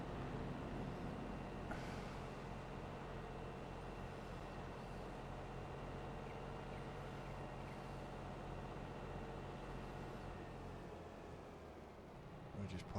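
Farming video game tractor driving and then parking, a steady low engine drone with a brief air-brake hiss near the start, close and continuous before dropping off at the end, with someone talking over it.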